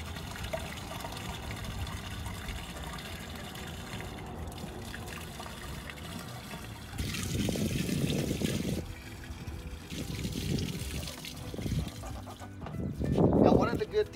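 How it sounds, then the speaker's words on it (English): Waste poured from an RV cassette toilet tank, a continuous gurgling trickle that swells into heavier glugging surges in bursts near the end, steady and close. "Gonna actually hold that button right there when you're dumping to get the airflow going."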